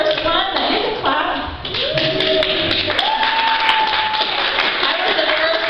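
A live audience claps, a sustained patter of many hands with voices and cheers mixed in.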